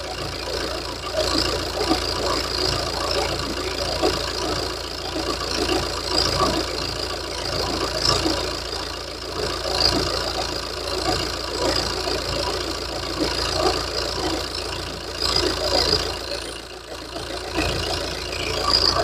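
An Opel Insignia's engine idles steadily under the open hood while its oil is being changed, a moderate, continuous hum heard close by for the whole stretch, with no talking.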